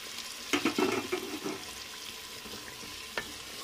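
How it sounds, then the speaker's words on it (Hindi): Half a kilo of boneless chicken frying and being stirred in masala in a pan, with a few close scraping stir strokes early on over a soft, steady sizzle. "तो इसे भून लेंगे, इसे भी 2 से 3 मिनट तक भून लेंगे।"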